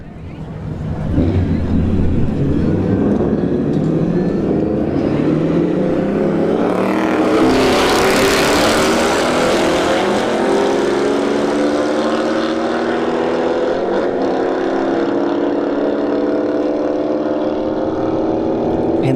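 Two cars, a Scat Pack and a Camaro SS, roar side by side down a drag strip at a Bradenton motorsports park test-and-tune, their loud engines building steadily through upshifts and staying loud and sustained for the run.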